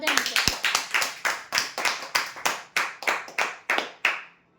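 During a Sunday lucky-draw prize announcement, the crowd claps loudly in a quick, steady, even rhythm, about fourteen sharp claps in a row before stopping abruptly.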